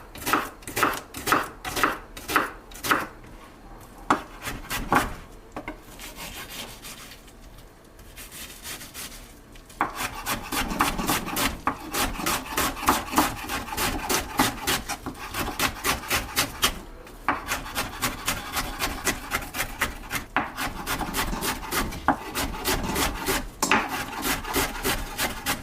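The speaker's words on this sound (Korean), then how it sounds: "양파도 다지도록 하겠습니다." A knife mincing onion on a cutting board for a Korean minced-pork dish: rapid, evenly spaced close chops in bursts, a quieter pause in the middle, then a long, dense run of fast chopping.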